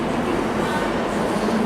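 Class 158 passenger train idling at a station platform, a steady low diesel rumble and hum close by, continuous and fairly loud throughout.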